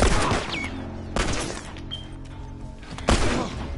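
Gunfire in The Last of Us, three sharp close shots spaced about a second apart, each with a short rumbling tail, over a low background hum.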